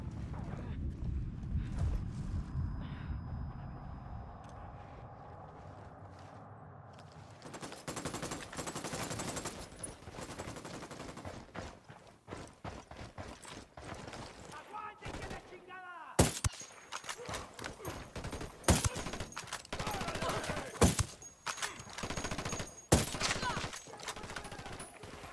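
Gunfire in a firefight in Ghost Recon Wildlands breaks out after a quieter opening, with scattered sharp shots and bursts of automatic fire, some loud and close, while voices speak at times.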